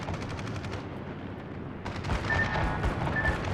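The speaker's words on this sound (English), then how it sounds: "So luckily they missed their first barrage." Enemy ships firing a gun barrage in the World of Warships naval game: a dense, continuous rumble of overlapping booming shots, loud and sustained, with a faint whistling tone near the end.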